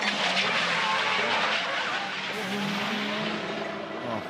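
Race cars roar in real time at the Bathurst 12 Hour, where one crashes, giving a dense, loud engine and tyre roar with a shifting pitch that fills the whole stretch.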